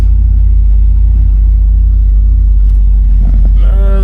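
A 1968 Chevrolet Impala SS engine idles with a loud, deep, steady rumble close by, with a slight rise in revs near the end.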